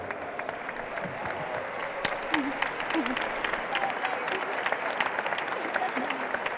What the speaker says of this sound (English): a big round of applause for Sunita as well